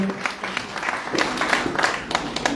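A crowd claps in a dense, steady patter of applause, fairly close and lively throughout.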